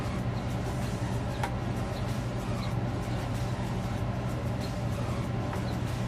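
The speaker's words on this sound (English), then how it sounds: "it was so hot in here, I had to put my AC on" Air conditioner running steadily in a room, a constant broadband whoosh with a low hum that stays level throughout, with no talking over it.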